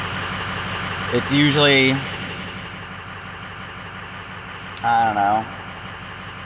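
A Ford 6.0 Power Stroke diesel idles steadily with a low, even rumble after starting on a new 6.7 starter, while someone speaks over it in two short bursts.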